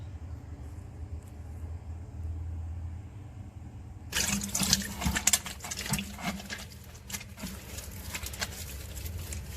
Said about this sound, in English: I'm going to wash and show you how well it lathers.